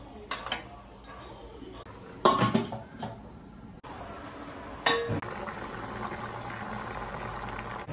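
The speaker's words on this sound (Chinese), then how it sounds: "加入土豆一起煮" Potatoes simmer in a pot with dark soy sauce and sugar. A few sharp clinks of utensil on pot come first, then a steady, soft bubbling boil continues close by.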